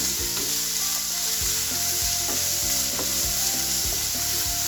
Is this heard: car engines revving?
no